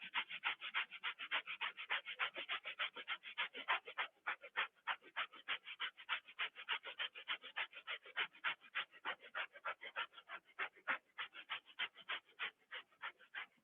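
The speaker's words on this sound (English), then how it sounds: "Remember, fire breath, in and out the nose." Rapid rhythmic qigong fire breathing forced in and out through the nose, a steady train of sharp, close breathy pulses about four per second continuing evenly without pause, no talking.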